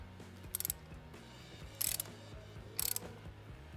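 An Allen wrench tightens the chain adjuster stud on an Evo Sportster primary, producing three short bursts of quick ratcheting clicks, close and crisp against a quiet background.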